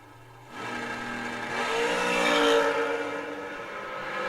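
Drag racing cars launch off the line at a memorial drag race, engines surging from a low idle into a loud rising roar that peaks and holds as they accelerate down the strip.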